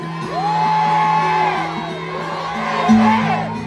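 A rally crowd at a Davao solidarity rally yells and whoops in loud sustained shouts, many voices blending into a swelling roar that peaks near the end.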